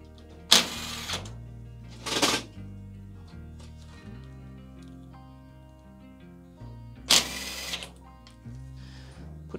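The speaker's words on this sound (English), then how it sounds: "Let's put our screws back in on either side." Screws being driven back into the sides of a Simpson EZILoader clothes dryer during a manual timer repair: three short, close whirring bursts separated by quieter pauses with faint background tones.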